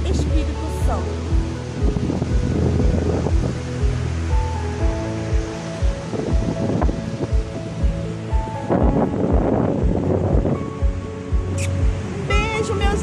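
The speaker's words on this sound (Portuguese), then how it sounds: "Mar maravilhoso. A praia de Piúma, Espírito Santo." Sea waves rolling in at Piúma beach in Espírito Santo, Brazil, a steady broadband surf wash with wind noise, heard alongside music and background voices throughout.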